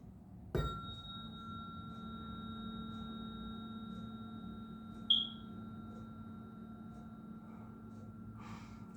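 A household smoke alarm with a low battery gives a single short, high chirp midway through, faint and distant in a quiet room, with a soft thump and a breath elsewhere.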